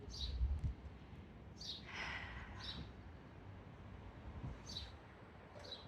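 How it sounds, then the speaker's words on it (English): Faint, thin bird chirps repeat at intervals over a quiet outdoor background, distant and sparse. "It's nice to hear the birds, isn't it?"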